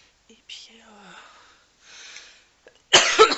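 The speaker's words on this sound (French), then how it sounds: "j'en ai marre de tousser comme ça." A woman coughs once, a short harsh burst near the end, after soft breathy whispering and faint vocal sounds close to the mic.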